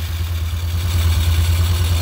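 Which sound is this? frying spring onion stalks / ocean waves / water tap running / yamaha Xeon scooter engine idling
yamaha Xeon scooter engine idling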